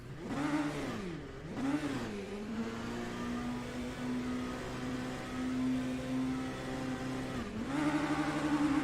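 An LMP1 prototype race car in a sim racing game screams at high pitch, its engine note rising and falling through quick gear changes before holding a steady, piercing drone at speed, then revving up again near the end.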